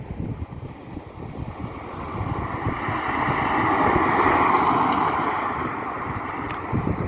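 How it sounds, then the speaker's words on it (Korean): A classic car converted to electric drive with a 144V air-cooled motor cruises at around 90 km/h carrying four people, heard as a steady roar of wind and road rush that swells midway, with no talking. "자, 이제 라라 클래식에서 EV 컨버전한 차량 주행 장면 보실게요"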